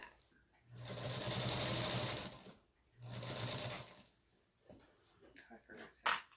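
A sewing machine stitching a quilted fabric Easter basket runs in two short, steady whirring bursts of about two seconds each, separated by quiet pauses with small handling clicks.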